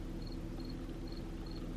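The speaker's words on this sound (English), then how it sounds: "I'm gonna apologize if you hear continuously a cricket sound." A cricket living inside a Tesla Model Y chirps in short, evenly spaced high trills, four bursts over a low, steady cabin hum, faint and with no voices.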